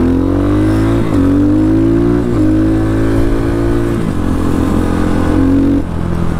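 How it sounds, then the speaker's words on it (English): A 2023 X Pro Titan DLX Chinese motorcycle accelerates while being ridden, its loud close engine droning and climbing in pitch through several gear changes, with steady wind rush underneath. "It's very torquey. It feels very powerful for a Chinese bike."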